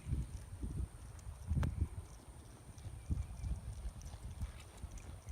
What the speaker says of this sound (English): he's got a nice long trot